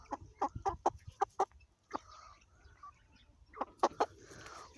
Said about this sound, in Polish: O, a tu kurka.